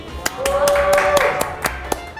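A handful of sharp claps ring out in a small studio as a subscriber arrives, spaced irregularly over a steady background with a faint tone and some voices.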